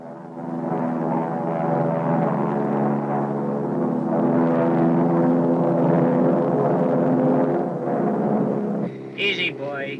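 Propeller-driven T-41 trainer airplane in flight, a steady loud engine drone with strong harmonic tones held for about nine seconds before briefly dropping away, voices chirping faintly at the end.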